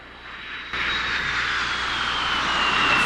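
A fixed-wing airplane engine plays back from a video, a loud steady drone that jumps up in level after a brief quieter start and holds without a break, with no speech.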